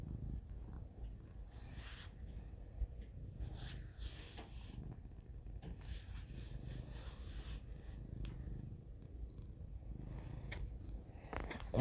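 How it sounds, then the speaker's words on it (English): A cat purrs softly and steadily nearby in a quiet indoor room, a low continuous rumble with faint rustling on top, heard alone without talk. "I'm sorry if y'all hear the purring in the background."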